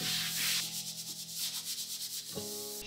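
240-grit sandpaper rubs back and forth over plywood in quick, rhythmic strokes, close and clear, with a low hum underneath.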